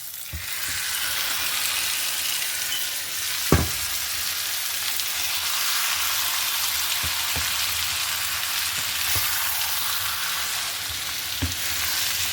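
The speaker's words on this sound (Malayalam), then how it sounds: "അപ്പോൾ ഇതിനകത്തേക്ക് ഞാൻ മാരിനേറ്റ് ചെയ്ത് വെച്ച ചിക്കൻ ആഡ് ചെയ്യാണ്." Marinated chicken frying with browned onions in a pan for Hyderabadi green chicken, a steady close sizzle running throughout with a few sharp clinks of stirring and no talk.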